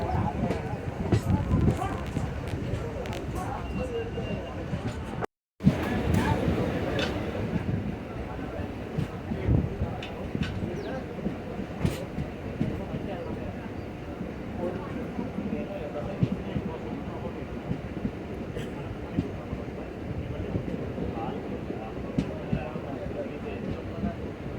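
A passenger train rolls on from Tirukkovilur station on the Tambaram–Tiruvannamalai line. A continuous rumble mixes with wind buffeting and scattered clattering clicks, and a short dropout interrupts it early on.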